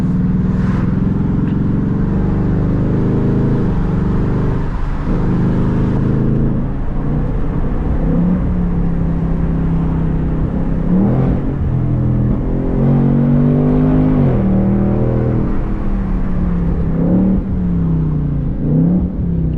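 A loud stock 2024 Ford Mustang GT engine idles and revs repeatedly up close at night, its deep rumble rising and falling in pitch throughout, with no talking.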